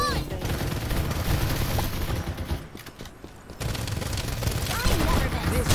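Dense, continuous gunfire in the battle royale shooter Farlight84 keeps up steadily, loud and close, with a short lull partway through before the shooting resumes, and speech mixed in.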